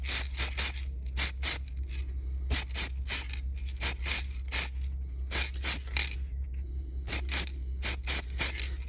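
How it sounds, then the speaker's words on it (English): Short, sharp hissing bursts from an aerosol spray paint can come in quick clusters of two or three, repeated rhythmically with brief pauses between, close up, painting 6mm scale miniatures. "I'll go around and give it a good spray."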